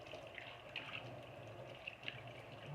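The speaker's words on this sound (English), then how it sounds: "You just rinse it off real good." Water splashes and trickles while a face is rinsed off at a sink, a faint steady running flow with a few soft drips and splashes, no talking.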